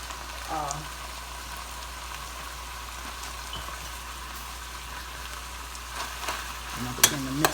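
Ground beef and sausage sizzle in a pan for a spaghetti meat sauce, a steady low crackle with occasional scrapes and clinks of stirring, fairly quiet.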